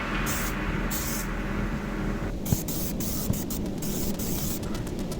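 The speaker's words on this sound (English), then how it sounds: "And I get some spray adhesive on there." Spray adhesive hisses from an aerosol can onto a peeled-back interior door panel of a lifted Volvo XC70, a steady broadband spray running for several seconds, broken by short pauses and a couple of faint clicks.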